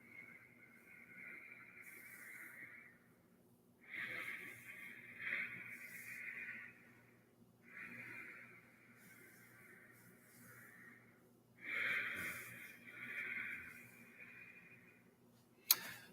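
Ujjayi breathing through the nose with a soft whispered hiss in the throat, heard as slow, steady rounds of long breaths separated by short quiet gaps, close and fairly faint.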